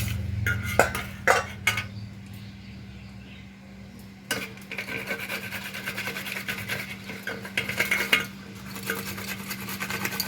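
Raw mango being rubbed against a metal grater, a steady close scraping rasp that runs almost unbroken after a few sharp knocks at the start, with a constant low hum underneath.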